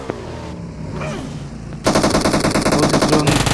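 Rapid automatic gunfire in the mobile battle-royale game PUBG Mobile, a loud, dense burst of repeated shots starting partway through and running to the end after a quieter stretch of game ambience.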